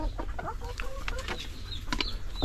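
Laying hens cluck and chatter in a steady, close flurry of short calls, with brief higher squawks scattered through the flock.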